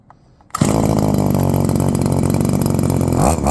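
A cheap Temu gas weedeater engine fitted with a new NGK spark plug fires up after a brief quiet moment. It then runs at a steady, buzzy high idle close by and alone, with a slight dip at the end.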